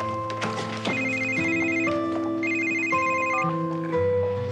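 A mobile phone rings inside a loft, a loud melodic ringtone of stepping tones repeating in a steady pattern with no voices over it.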